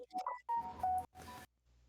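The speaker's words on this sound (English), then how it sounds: "That was my phone." A call participant's phone sounds a quick run of electronic tones and beeps, close and clear, broken by short gaps and ending in a faint hum.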